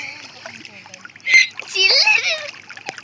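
Water splashing in short bursts while bathing at a farm pump set outdoors, with children's voices and chatter running over the splashes.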